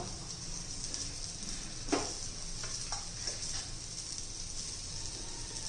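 Ribbonfish frying in a pan, with a steady close sizzle throughout and a few soft scraping knocks as the pieces are flipped over. There is no talking.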